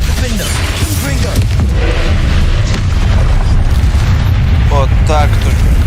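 Confringo fire spell in the game Hogwarts Legacy, heavy booming explosions and rumbling blasts layered with magic effects and whooshes, with a voice casting spells over the loud action.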